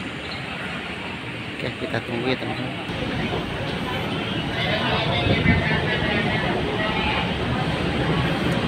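Trains idling at Gambir station platforms in Jakarta, including the KA Parahyangan and KA Manahan, a loud steady rumble of engines and platform noise with someone talking over it.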